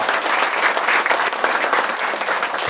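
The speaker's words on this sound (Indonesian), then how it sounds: "Tepuk tangan yang meriah." Loud, dense applause from an audience at a Father's Day school event, steady clapping filling the whole stretch without pause.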